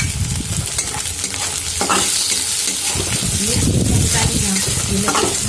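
Green chillies and onion frying in a pan for kande tomato poha, a loud steady sizzle with scraping stirs and spatula knocks against the pan, close up and without talk.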